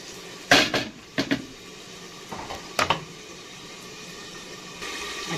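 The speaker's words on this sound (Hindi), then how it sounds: "इसे उतार लेते हैं चूल्हे से।" A metal cooking pan clanks and scrapes as it is lifted off a kitchen stove after frying an egg for chicken jalfrezi, with a few sharp clatters spread over a quiet background.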